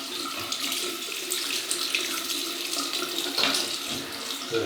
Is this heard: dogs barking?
no